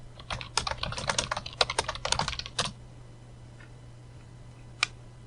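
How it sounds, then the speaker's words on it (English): Rapid clicks of typing on a computer keyboard in a burst of about two and a half seconds, ending with a firmer keystroke, then a single isolated click after a pause in a quiet room. "Let's type 1 ring to rule them all at the prompt and press enter."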